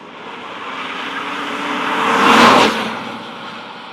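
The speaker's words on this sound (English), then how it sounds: "It's a fine engine, and it's smooth." A six-cylinder BMW 528i E39 engine accelerates in second gear, its smooth note building steadily and peaking loudly near the end before easing off.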